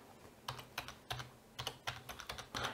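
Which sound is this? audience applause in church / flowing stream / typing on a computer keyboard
typing on a computer keyboard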